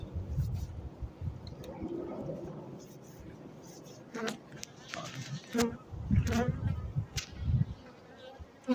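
Honeybees buzz in faint bursts among clicks and handling noise, while people talk quietly nearby.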